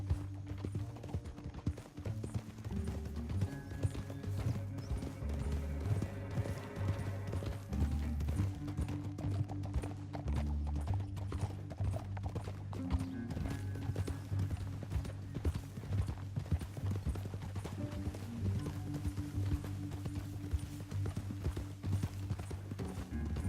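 Steady hoofbeats of horses clip-clopping along under a busy musical score in Red Dead Redemption 2, continuous and fairly close, with occasional harder thuds.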